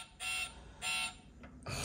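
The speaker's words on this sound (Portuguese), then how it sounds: "ligou o alarme." A miniature toy car alarm gives three short, rising buzzing bursts with brief gaps between them, thin and close by.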